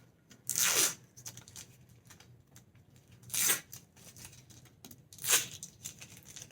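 Tape is peeled and pulled away from a diamond painting frame in three separate crisp tearing rips spaced a couple of seconds apart, close and clear, with quiet rustling between them and no voices.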